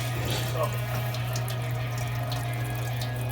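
Coolant pours from a Jeep Grand Cherokee radiator into a drain pan as a steady splashing trickle over a low constant hum, close by and continuous.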